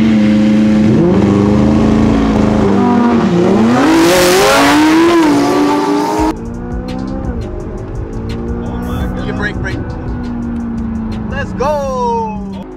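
A Lamborghini Huracan STO and a McLaren 600LT launch in a drag race, engines roaring loudly as they rev and accelerate hard through rising gear changes, then recede into the distance while people talk nearby.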